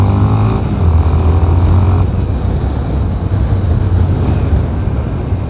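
A Honda XRE 300 motorcycle rides along on asphalt, its engine a steady loud drone with a low throbbing hum that holds constant, heard close and alone.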